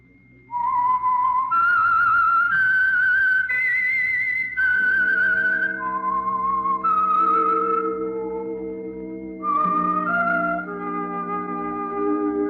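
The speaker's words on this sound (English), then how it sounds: "That whistle is your signal for the Signal Oil program, The Whistler" The signature whistled theme of The Whistler radio mystery program, a solo melodic whistle rising and falling through a slow eerie tune, then backed by sustained low orchestral chords and strings, loud and close.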